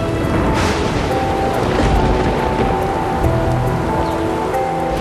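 Heavy rain pours down at the Cenote Holtun, a deep sinkhole in the Maya region, with dense, steady patter and splashing on surfaces filling the whole stretch and no talk.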